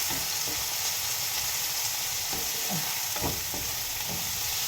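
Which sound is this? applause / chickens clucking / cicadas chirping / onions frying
onions frying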